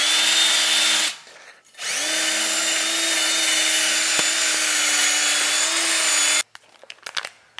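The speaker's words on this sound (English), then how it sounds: "I'm just going to go around the outside of the rim, clean all that rust off." A power tool scours rust from the outer edge of a Honda 250es dirt bike wheel rim, giving a loud, steady whine that pauses briefly, resumes for several seconds, then cuts off into scattered clatter.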